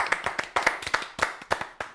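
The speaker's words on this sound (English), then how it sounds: "Can we just have a round of applause for MG?" Small-group clapping for MG at an electric car preview, about ten distinct sharp claps in an uneven rhythm, close and fairly quiet, with no talking over it.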